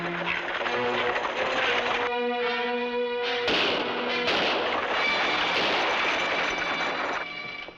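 Several rifle shots ring out against a busy backdrop with tonal music or hum in a frontier-era drama scene, the sharp reports fairly faint and scattered through the sound.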